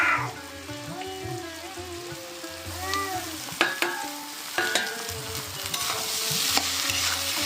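Cooked rice being stirred into vegetables frying with egg in a pan, a soft continuous sizzle broken by a few sharp scrapes and taps of the spatula, with faint background hum.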